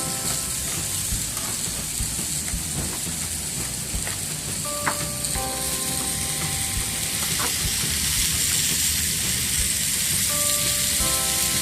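Garlic mashed with salt frying at high heat in a stir-fry pan gives a loud, continuous sizzle and hiss, with a few faint utensil clinks scattered through it.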